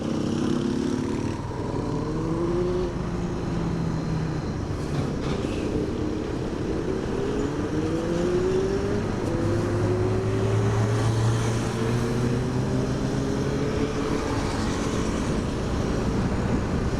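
A vintage BMW motorcycle engine drones steadily while riding, with rising and falling pitch as it shifts and accelerates, wind noise underneath.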